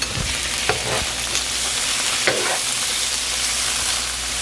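Pork chops sizzle and fry in a hot wok with soy sauce, a steady broadband crackle with a few sharper stirring clacks, continuous and fairly loud with no talking.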